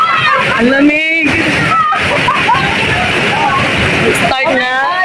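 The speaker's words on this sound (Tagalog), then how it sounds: "Ang lakas ng tubig." Ditumabo Falls in San Luis, Aurora, roaring as a loud, constant rush of water close by, with people talking over it.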